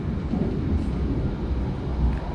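The KA Turangga panoramic passenger train runs at night on the electrified line near Palur, heard from inside as a steady low rumble of wheels on rails, fairly quiet and continuous.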